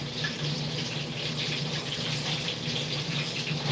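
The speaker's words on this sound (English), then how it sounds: "So we're going to put some vinegar in this pot already." White distilled vinegar pours steadily into a cooking pot for Jamaican escovitch fish, a continuous close liquid gush and splash that runs unbroken without talk.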